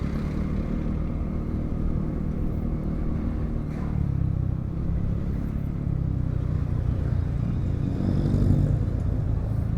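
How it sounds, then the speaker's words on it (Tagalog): Road traffic rumbles steadily at moderate volume, a low drone of passing cars and motorcycles with a slight swell near the end, heard from inside a moving vehicle with no talking. "Traffic."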